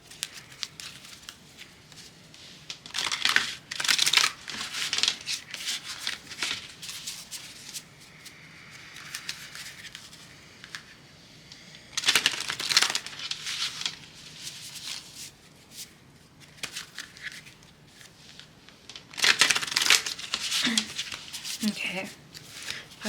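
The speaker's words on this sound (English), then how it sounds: "Let's go ahead and get some of these oracle cards." Oracle cards are shuffled in several close bursts of riffling and sliding with soft paper rustling, and a person talks quietly between and over them.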